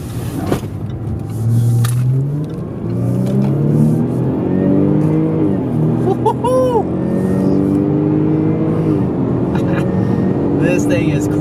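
A new Jaguar car accelerates hard to 100 mph, its engine note climbing steadily through the gears from inside the cabin, loud and close, with someone talking over it.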